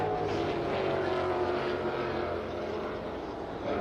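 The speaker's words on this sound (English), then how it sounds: "with these 500 horsepower V8s, I would not be surprised if we're seeing them pull the front end over on that uphill section" 500-horsepower Ford Mustang V8 race cars in a Mustang Cup race at Lime Rock Park, a distant, steady engine drone carried on the air without distinct passes, fairly faint and unbroken.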